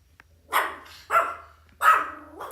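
A dog barks three times, then starts a fourth, in a quiet indoor room with a low hum underneath, each bark sharp and fairly close with short pauses between, no talk.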